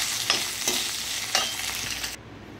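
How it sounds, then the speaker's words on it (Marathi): Potato pieces fry lightly in hot oil for aloo parwal sabzi. A close, bright sizzle runs throughout, with a few stirring scrapes, then cuts off abruptly. "बटाटे पण मी तशीच थोडेसे हलकेसे फ्राय करून घेणार आहे।"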